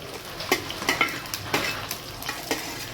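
Onion and green chilli frying in hot oil in a pan, a close, steady sizzle broken by a string of sharp spatula scrapes and taps at irregular intervals.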